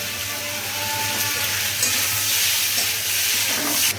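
Fried mushrooms with turmeric sizzle in a hot pan, a loud, close, bright hiss that holds steady with faint stirring scrapes and no speech.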